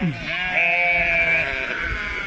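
A passing flock of sheep gives one loud, drawn-out bleat close by, with fainter bleats and movement around it.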